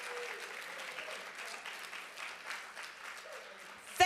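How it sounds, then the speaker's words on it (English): A round of audience applause at a short film screening and discussion, moderately quiet and continuous, ending in a sharp loud clack. "So big round of applause for them"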